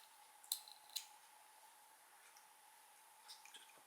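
Metal snips make two quick, sharp cuts through yarn after crochet work on a 3D box effect blanket, close and distinct against a quiet background, followed by a few faint clicks.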